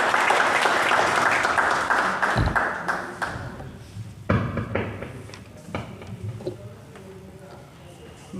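An indoor crowd at the retirement party of Chaudhry Muhammad Shabir, Assistant Operating Officer in Faisalabad, breaks into hearty applause that fades after a few seconds, giving way to scattered claps and murmuring voices.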